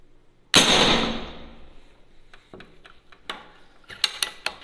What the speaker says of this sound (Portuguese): Primeiro disparo, 827 FPS, com chumbo de 40 grains, vai dar aproximadamente 82 joules